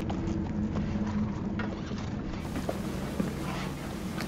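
Faint, sparse hoof clip-clops from a horse sound at a distance in the TV series The Last of Us, scattered over a low, steady background murmur.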